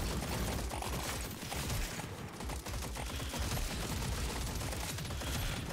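Dense, continuous gunfire and weapon blasts from the M1000 sniper rifle in Deep Rock Galactic Survivors, rapid overlapping shots running throughout at steady loudness with no voice.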